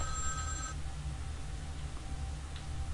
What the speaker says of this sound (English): So the phone's ringing.